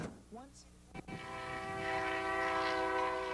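A freight train's horn blares steadily as the train, in full emergency braking, rolls past close by at a crossing, a rumbling, sustained tone following a brief clunk and muffled voice.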